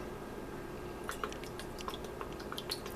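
Small splashes of Worcestershire sauce land in a pressure cooker with beef tips, a few soft wet drips and squishes scattered across a low steady background hum, quiet and close.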